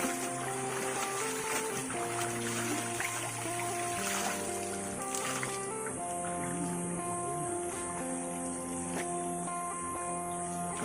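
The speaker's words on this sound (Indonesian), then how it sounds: "Cai ti curug langsung murni alami." River water pours from a waterfall where clothes are being washed, making a steady, continuous rushing wash that holds an even level throughout, with some other tonal sound mixed in.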